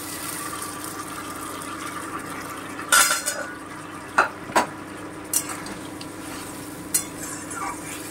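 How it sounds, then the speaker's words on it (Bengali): Boiled mutton goes into a pan of browned onions, making a handful of scattered clinks and thuds of utensil on metal over a low steady hiss of cooking, with no talk. "এবারে আমি সেদ্ধ মাংসটা এতে দিয়ে দিচ্ছি।"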